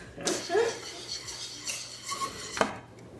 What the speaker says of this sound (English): Whisking until completely butter incorporates to pastry cream